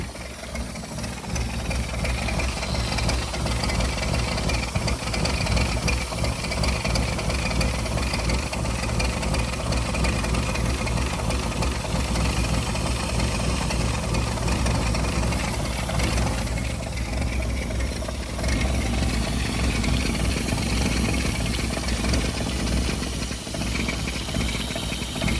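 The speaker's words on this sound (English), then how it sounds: "Let's see if I can make it run long enough to move it." A 1955 International R160 dump truck engine with a carburetor in need of rebuilding idling roughly, a loud, close, continuous mechanical drone with a hissing wash and uneven flutter that dips briefly before steadying again.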